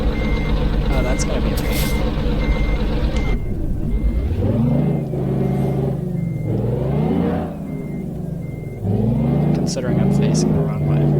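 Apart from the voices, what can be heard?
truck reversing beeps in a truck driving video game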